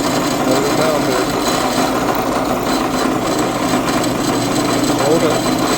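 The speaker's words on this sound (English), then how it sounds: "Don't put too much pressure on the drill bit." A power drill bores a second hole near a vehicle drive shaft during a repair, a steady broadband whir and grind running continuously at close range.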